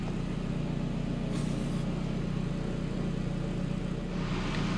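An Audi S3 with a 1.8-litre 20-valve turbo engine and a big Garrett turbo idles while warming up, a steady low droning hum with constant broadband hiss that holds even throughout, with no talk.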